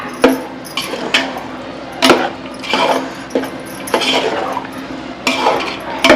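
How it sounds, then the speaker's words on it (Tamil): A metal spoon stirs yogurt through biryani in a pot, giving irregular clanks, scrapes and clinks against the metal sides in short bursts close by. "தயிர் ஆட் பண்ணி நல்லா கிண்டிக்கோங்க"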